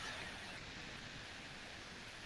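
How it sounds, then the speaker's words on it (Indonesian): Steady, faint rain falls continuously as an even hiss with no distinct drops, quiet and distant, with no voices. "Hujan ini. Hujan terus."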